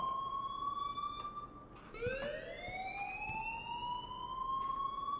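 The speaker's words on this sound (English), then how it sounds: "please turn off that alarm since that's your job" An alarm in the Life is Strange video game wails as a rising and falling siren tone, loud and continuous, briefly dipping before sweeping upward again.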